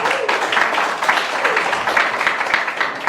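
Classroom students clap together for themselves in a loud burst, close and lively, with uneven pulses of hand claps and some voices mixed in across the few seconds.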